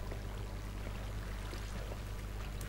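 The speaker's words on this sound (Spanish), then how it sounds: "Vale, ahí se va el agua." Water flowing and pouring steadily in a modded Minecraft mine, a continuous faint rushing stream with no talk over it.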